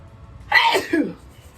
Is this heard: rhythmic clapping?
no